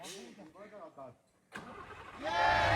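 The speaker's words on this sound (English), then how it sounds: "Always a relief when the truck restarts, especially here." A truck engine in a video game cranks and catches after a short pause, rising into a loud steady running drone; a voice speaks over the earlier part.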